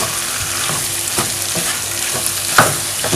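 Cabbage fries and sizzles in a pan for gizdodo, a steady loud crackling hiss with regular scraping stirs of the spoon cutting through it about every half second.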